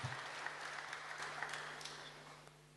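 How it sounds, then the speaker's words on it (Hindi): Audience applause greets a speaker at a spiritual session, a fairly faint, even patter of clapping from a crowd lasting a few seconds without talk. "एक बार जोर से ताली बजाकर हमारे आदरणीय जयंती बहन जी का हम स्वागत करें।"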